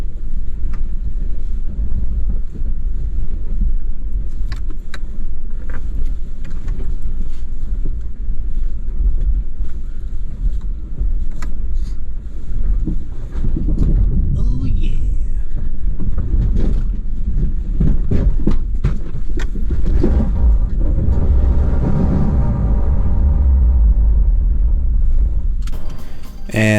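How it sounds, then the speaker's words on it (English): A Lexus GX460 high-centered on a big rock, its underside grinding and scraping against rock near the transmission over a steady engine rumble and wind buffeting, with bursts of harsher scraping and low thuds. "that is the sound of being high centered"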